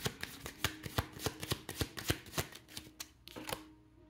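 Tarot cards are shuffled and drawn in a quick run of about a dozen crisp riffling snaps, close and fairly soft, with no voice.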